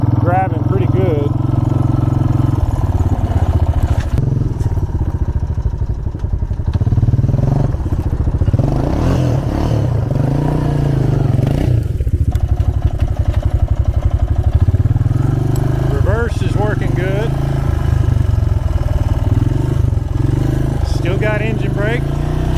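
A Honda Foreman 450 ATV with about 16,000 miles runs steadily on a town test drive. The engine drones loud and continuous, with occasional clatter and thumps over rough ground, and someone talks over it throughout.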